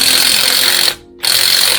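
Power impact gun running on a Proton Saga drive shaft during gearbox removal at home, a loud continuous whirring buzz close by that cuts out briefly near the middle, then resumes at full strength.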